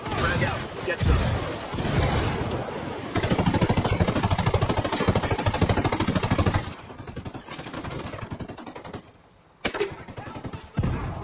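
Gunfire and a frag grenade in Ghost Recon Wildlands: loud sustained automatic fire in rapid bursts, then a pause and a heavy blast, with voices calling out over the shooting.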